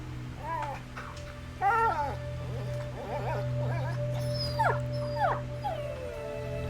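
An injured dog whimpers and yelps in the video game A Plague Tale: Innocence, a string of short, rising and falling whines and cries heard up close over a steady low drone.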